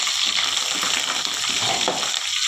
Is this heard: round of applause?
no